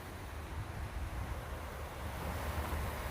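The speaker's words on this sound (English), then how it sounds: "There's the stream that it runs along" Steady broadband rushing of a flowing creek in a nature park, continuous and fairly even, with no voices.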